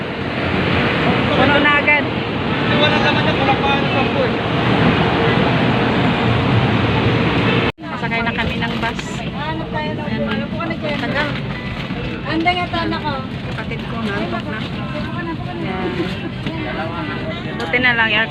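Noisy, crowded passenger vehicle riding through Manila, with loud wind rushing through the cabin and constant road rumble while people talk over it.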